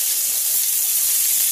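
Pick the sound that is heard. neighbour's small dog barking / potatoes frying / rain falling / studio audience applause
potatoes frying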